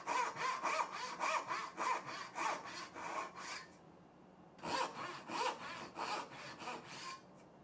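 Hand saw cutting wood for a jewelry box, rhythmic back-and-forth strokes, close and clear, with a brief pause midway before the strokes resume.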